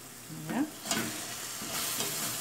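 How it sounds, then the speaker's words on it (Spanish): Sofrito sizzles steadily in a pan over a raised flame, a soft close frying hiss with a couple of brief stirring scrapes and no speech. "Acá estoy haciendo mi sofrito."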